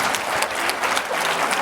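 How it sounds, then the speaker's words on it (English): A panel audience at a women-in-leadership event claps in a short burst of steady, fairly loud applause with some individual claps standing out, no speech over it. "Okay, we need to clap."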